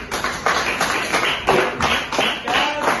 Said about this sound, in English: give Group 2 a round of applause